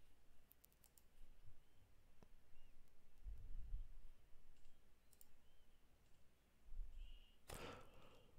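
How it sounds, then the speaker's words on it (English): Sharp, dry clicks from a male bird of paradise snapping its feathers together, scattered and fairly faint, with one louder burst near the end over a quiet outdoor background. "Those clicking sounds you hear are its feathers being snapped together"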